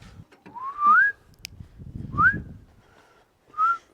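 A person whistles three short rising notes, separated by pauses, close and clear against quiet garage-build surroundings with faint low rumble underneath.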